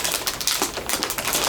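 Diamond painting kit bead packets crinkle close and loudly in a steady burst of crackly plastic rustling.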